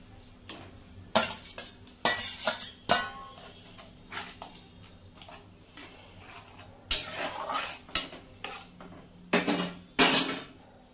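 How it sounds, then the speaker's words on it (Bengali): Pineapple tipped into a pan of simmering bay-leaf syrup for pineapple chutney, with a series of sharp metallic clanks and scrapes of utensil on pan in irregular bursts between quieter moments. "এখন আমি আনারসটা দিয়ে দিব।"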